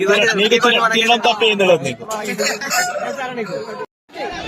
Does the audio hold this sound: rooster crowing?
yes